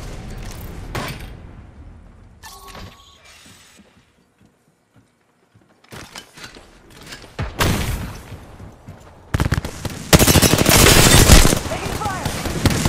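Apex Legends gunfire: scattered shots, then a quiet gap, then increasingly loud bursts of automatic fire toward the end, with in-game voice callouts mixed in.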